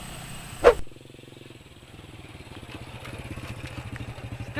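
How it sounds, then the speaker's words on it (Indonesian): A motorcycle engine idles and passes along a road nearby, its rhythmic putter building gradually after a brief loud clatter. "Nungguan motor lewat lah."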